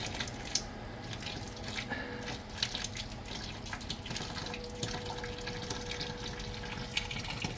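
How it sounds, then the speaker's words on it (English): A pump pushes water through a homebrewing system in a steady flush, with continuous rushing and splashing flow and scattered drips and clicks over a low running hum. "But first we're going to give it a flush. Which pump are we on?"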